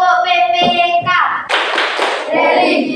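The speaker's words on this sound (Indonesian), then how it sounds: "Kita akan melakukan tepuk PPK dulu anak." Schoolchildren in a classroom performing a rhythmic PPK clapping chant, with children's voices followed by a burst of loud, close group clapping.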